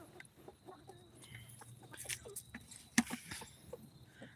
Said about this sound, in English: We're feeding our chickens our mash that we made this morning.